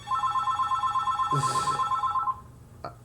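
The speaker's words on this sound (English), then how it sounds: "just ignore the phone call" A telephone rings with a steady, evenly pulsed electronic trill lasting a couple of seconds, then stops, followed by a brief faint click; no one speaks.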